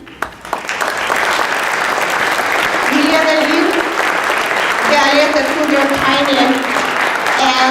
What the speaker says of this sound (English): Let's give a round of applause to Master Concert Committee members.